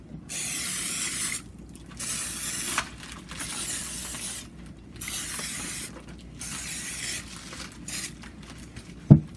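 Cooking spray hisses onto a mini cake tray in a home kitchen in several separate bursts of a second or two each, with pauses between and a small clatter at the end.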